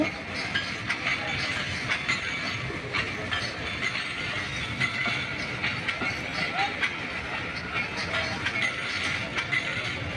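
The Rocket Mail passenger train pulls away from Abdulpur Junction railway station, its steady rolling rumble and faint wheel clatter carrying on at moderate distance while a voice talks over it.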